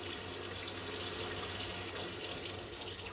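Water runs steadily from a tap into a sink, a constant broad rushing hiss that fills the whole few seconds without a break, close and fairly loud, with no voices over it.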